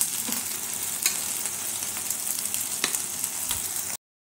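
Pieces of Cadbury sandesh sizzle gently in hot ghee, a continuous close frying hiss with occasional light scrapes of stirring.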